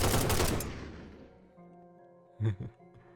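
Gunshots in a Minecraft survival RPG server: a loud, dense burst of rapid shots at the start fades into a lingering tail, then two short, sharp blasts follow close together near the end, with no talking.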